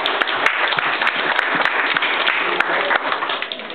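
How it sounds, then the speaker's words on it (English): A crowd at a Breakfast with Santa event gives applause for a bicycle association, many hands clapping in a steady close patter with a few sharper individual claps standing out. "So a little round of applause for that."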